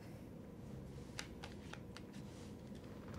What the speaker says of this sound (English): Please shuffle the cards.